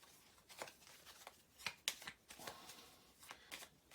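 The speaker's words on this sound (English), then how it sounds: "need to shuffle these 2 cards back in." Playing cards from a tabletop infantry wargame are shuffled by hand, a series of quick crisp riffles and snaps with short pauses between, close and fairly quiet.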